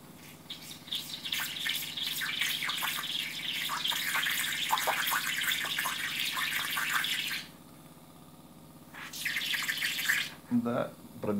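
A small water pump meant for cooling parts on a 3D printer runs at 6 volts, shooting a jet into about three centimetres of water with steady splashing that stops briefly, then resumes before a short voice.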